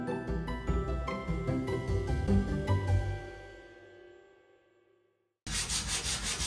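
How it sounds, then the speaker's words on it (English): A sander works over filled patches on doors during an archive room restoration, a rough, steady abrasive hiss that cuts in for about a second at the end after fading tonal music and a brief silence. "He has filled in patches, now sanding down."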